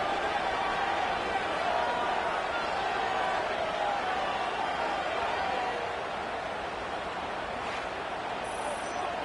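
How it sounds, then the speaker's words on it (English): Steady, dense stadium crowd roar from a College Football 26 game between Notre Dame and Arkansas, a constant wash of distant noise with a commentator talking over it throughout. "This crowd bringing the energy and noise early"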